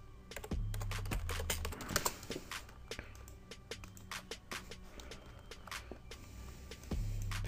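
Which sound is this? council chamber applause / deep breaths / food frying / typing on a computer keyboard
typing on a computer keyboard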